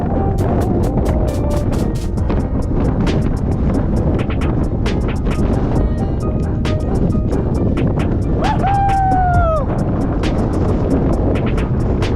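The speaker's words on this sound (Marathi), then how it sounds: "वारा सुटला मित्रांनो जोरात" Loud, constant wind roar buffeting the microphone on a hill fort trek at Malang Gad, with faint voices and a brief whistling tone partway through.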